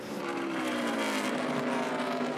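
A NASCAR O'Reilly Auto Parts Series race car engine at Indianapolis Motor Speedway roars at sustained full throttle, loud and close with a steady high-pitched drone.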